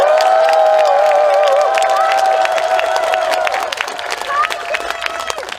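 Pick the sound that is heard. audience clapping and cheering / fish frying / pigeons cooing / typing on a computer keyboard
audience clapping and cheering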